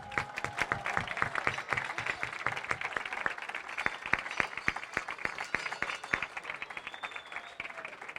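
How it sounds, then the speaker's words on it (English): Scattered, moderately faint applause at a literacy council spelling bee, individual sharp claps standing out distinctly in an uneven, thinning rhythm from a smallish audience. "Another big round of applause."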